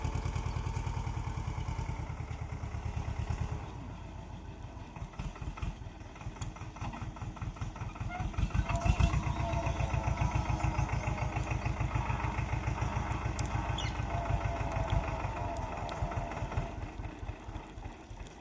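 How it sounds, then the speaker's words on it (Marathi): A tractor engine idles and runs steadily nearby, its rapid rhythmic chugging and clatter loud and continuous throughout, with a brief rise in revving midway and no talk over it. "ट्रॅक्टर चालू झालाय."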